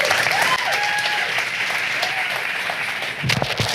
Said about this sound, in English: So please give a big round of applause to Adam Smiley Poswalski.